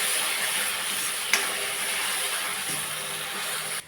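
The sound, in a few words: tomato paste sizzling while being sautéed for pav bhaji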